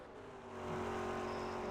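A V8 supercar engine in the iRacing sim, a steady whining drone that swells louder partway through and holds, heard alone with no talk.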